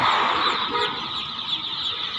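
Many chicks cheeping at once beside a road after a truck carrying thousands of them overturned, a dense high-pitched chorus of peeping, continuous and fairly close, with faint background noise.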